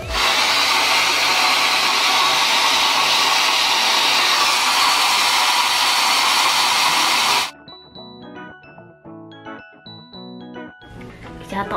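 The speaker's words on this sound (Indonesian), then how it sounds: "Langsung aja kita keringkan." A hair dryer blows steadily on hair freshly treated with keratin at home, a loud continuous whoosh for about seven seconds that stops abruptly and gives way to quieter handling noises.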